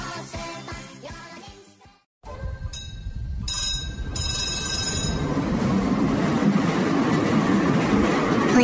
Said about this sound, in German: Wir fahren mit der Straßenbahn durch Düsseldorf.